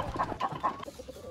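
Several native chicken hens cluck in short bursts close by in a breeding pen, with fainter clucking and farmyard chatter continuing behind.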